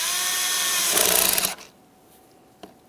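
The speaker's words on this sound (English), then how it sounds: "Tighten your 8mm headed clamp." Hose clamp with an 8mm head is tightened during alternator replacement on a 2013-2015 Chevrolet Malibu 2.5L, a loud whirring driver buzz lasting about a second and a half, then near-quiet with one small click.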